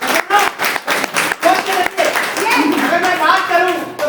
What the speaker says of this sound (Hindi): ताली बजा दीजिए आप।